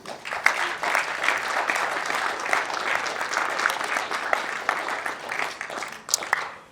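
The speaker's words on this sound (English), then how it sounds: "let's have a round of applause for all four players" A crowd at an international doubles championship final gives sustained applause for all four players, dense even clapping at a moderate distance with little talk over it.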